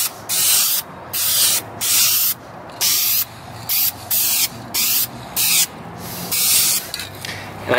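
Light coats of spray paint hiss onto auto trim cladding in repeated short bursts of about half a second to a second, close and loud, separated by brief pauses.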